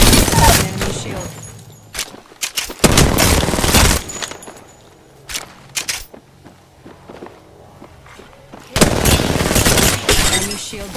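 Bursts of rapid automatic gunfire in the video game Apex Legends, loud and close, separated by quieter gaps with scattered single shots, clicks and impacts, the heaviest volleys at the start and again near the end.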